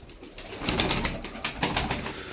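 Pigeons in a loft give soft, overlapping coos and rustles, steady and fairly close, with no voices.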